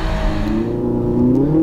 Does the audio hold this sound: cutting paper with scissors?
no